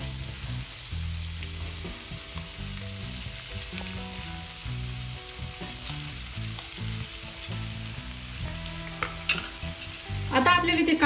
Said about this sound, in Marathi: आता या स्टेजला मी कांदा ऍड करून घेणार आहे